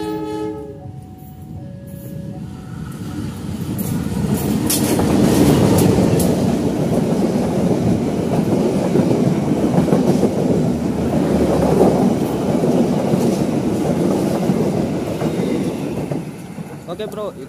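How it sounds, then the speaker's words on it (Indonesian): The Serayu passenger train K251 roars past at close range, a loud rumbling swell of wheels and carriages with rhythmic rail clatter that builds after a few seconds and holds steady before easing off. "itu dia kereta api Serayu dengan nomor K251 sudah melintas"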